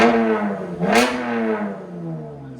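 A 2024 Chevy Camaro RS with a 3.6L V6, six-speed manual and Flowmaster Super 10 and MBRP exhaust revs up sharply and settles into a steady, deep idle burble, loud and close, with no talking.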